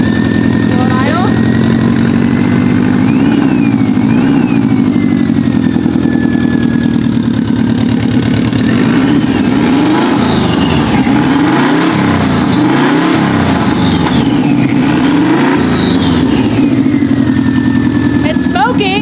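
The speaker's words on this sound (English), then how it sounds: "It's smoking, but I take back everything I say. The engine runs." Steady engine of a recovered stolen car, smoking as it runs, idles loudly, then is blipped through several rising and falling revs in the middle of the stretch before settling again. Talk runs over it.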